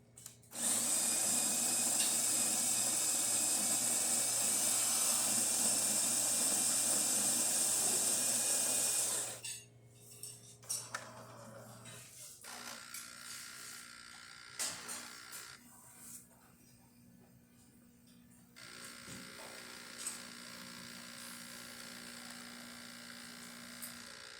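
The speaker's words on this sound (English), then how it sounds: "So let's go ahead and test it and make an espresso shot." A freshly serviced Jura Impressa C60 espresso machine brews a shot with a loud, steady buzzing pump drone for about nine seconds. It then drops to quieter intermittent clicks and hum, with faint voices in the background.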